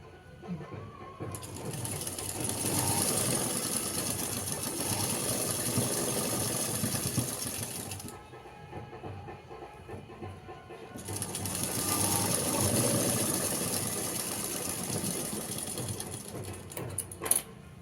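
An electric sewing machine stitches a blouse in two long steady runs of rapid whirring, separated by a brief pause, with faint background sounds between bursts.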